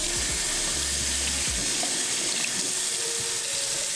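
Food is washed under a running kitchen tap, a steady loud rush of water splashing into the sink with no talking.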